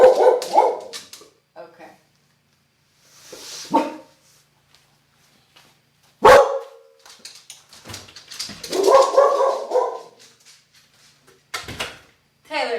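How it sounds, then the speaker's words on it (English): A dog gives a few sharp, close barks and some whimpers between stretches of quiet, with a person speaking briefly in between. "So that was a legitimate bark."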